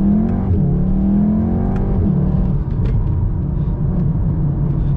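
A Volkswagen Golf R 7.5 accelerates hard on a night drive, its engine note climbing and falling through revs with a close, loud whir and rumble, no talk over it.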